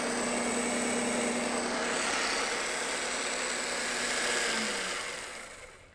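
A motor drives a vibrating string to set up standing waves, making a loud, steady, close whir with a low hum that slides down in pitch as it winds down near the end. No one speaks.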